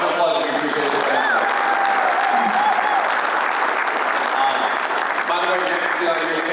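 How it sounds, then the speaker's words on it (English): Audience applause at a lawn care business panel, steady loud clapping from a crowd throughout, with some voices mixed in beneath it. "Round of applause if you appreciate that."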